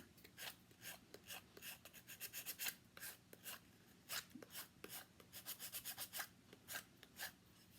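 A painted wooden carrot is sanded by hand in quick, uneven bursts of scratchy rubbing, close and quiet.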